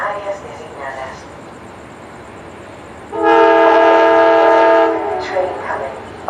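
A SunRail commuter train rumbles past at night as a loud horn blasts for about two seconds, then fades, with a faint voice in the background.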